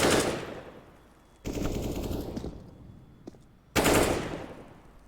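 Three loud, sharp Mag-7 shotgun shots in a video game boom in turn, each one a heavy blast that fades into a short decaying tail, with a faint click between them.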